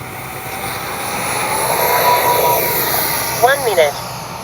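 X-Fly 40mm F-15 RC jet taking off, its electric ducted fan whining steadily and rising in pitch, with a person talking briefly near the end.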